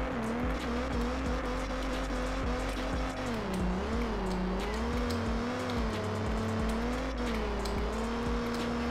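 A Mustang drifts in the Rebaixados Elite Brasil racing game, its engine holding a steady, wavering drone under continuous tire squeal. Loud and constant throughout, with no talking.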